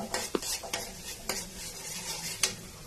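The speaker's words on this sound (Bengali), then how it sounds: "আমি এখন কড়াইতে তেল দিয়ে নিলাম, তারপরে পেঁয়াজ দিয়ে দিচ্ছি। পেঁয়াজটা কিছুক্ষণ নেড়ে ভাজা ভাজা করার পরে" Onions stir-fried in hot oil in a wok, a steady close sizzle broken by several sharp scrapes and knocks of a spatula against the pan, with no voices.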